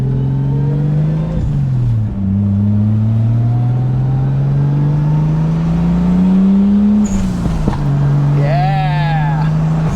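A Toyota Supra's 7M engine with its turbo boost turned up revs loudly and close. Its pitch climbs and dips through repeated throttle blips, and a higher whine rises near the end.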